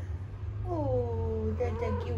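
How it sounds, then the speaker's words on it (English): A house cat meows in a drawn-out, falling tone followed by a shorter second meow, close by, with a low hum underneath and a person's voice nearby. "Oh, that's a cute kitty."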